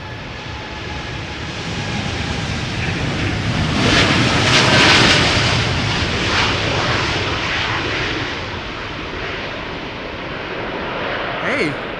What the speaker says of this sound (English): This is KLM flight 908 going to Chicago, 7878 Dreamliner.